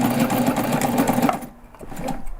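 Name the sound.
sewing machine backstitching a backpack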